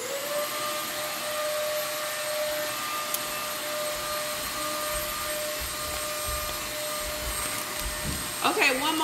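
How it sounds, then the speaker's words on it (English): A household vacuum cleaner runs steadily at close range throughout, a continuous whining roar with faint voices and a brief clatter near the end. "I'm going to vacuum now."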